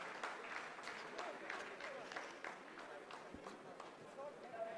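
Faint, distant applause from scientists in a Chandrayaan-3 mission control room, a thin, steady patter of clapping that carries on evenly throughout.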